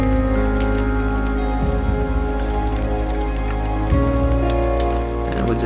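Slight drizzle falling near a campfire on a two-day trip in Chikmagalur, a steady close patter of raindrops on surfaces with layered tonal background sound, continuous throughout.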